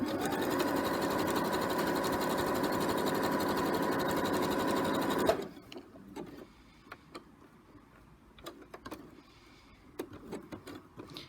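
A sewing machine stitches applique fabric in a steady, loud mechanical whir for about five seconds, then stops abruptly, leaving faint clicks and handling noises as the fabric is turned under the presser foot.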